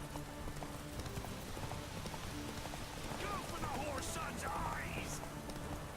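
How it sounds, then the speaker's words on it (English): Hoofbeats of Roach, Geralt's horse in The Witcher 3, clip-clopping in a steady rhythm over a soft rain-like wash, with game voices talking over the middle and later stretch. "Back on the road, horse."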